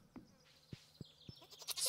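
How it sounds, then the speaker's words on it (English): Goat bleating in the farming game Stardew Valley: a few short, soft bleats at a steady spacing, followed by a brighter burst of game sound at the end. "Gonna get trapped into the pen by my own goat."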